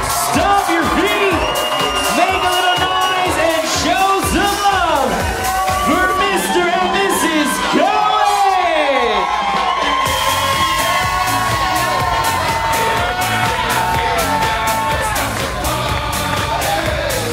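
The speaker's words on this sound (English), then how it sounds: "Give yourselves a great big round of applause for coming on out tonight" Wedding reception guests in a ballroom cheer, whoop and yell loudly as a crowd, with shouts rising and falling throughout and a steady backdrop of applause and music.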